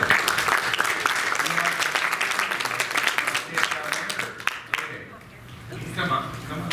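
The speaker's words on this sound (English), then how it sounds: "Let's give them warm applause to Emily at ePN." An audience at a corporate mobile presentation claps warmly, dense applause with distinct individual claps that thins out and fades toward the end as a few voices talk beneath it.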